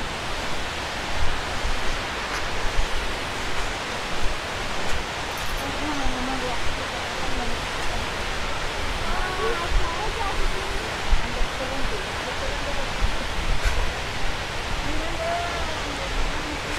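Jalagampari waterfall near Tirupathur, a dense continuous roar of falling and rushing water, close and loud, with faint voices buried under the noise.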